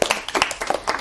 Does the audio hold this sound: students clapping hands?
yes